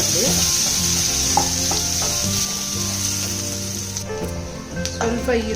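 Sliced onion fried in oil with crushed garlic in a pan for Mangalore-style clam sukka: a steady, fairly loud sizzle beneath a tonal background hum, with a few stirring knocks.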